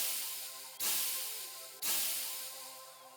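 Two sudden bursts of loud, broadband hissing, each fading slowly, sound in an eerie audio horror story about a cursed black kitten, the second arriving about a second after the first.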